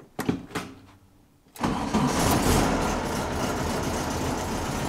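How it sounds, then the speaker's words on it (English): A 1964 Volkswagen Beetle engine cranks with a few quick starter turns, pauses, then fires and settles into a steady, loud idle close by. "Seriously love how easy this car starts."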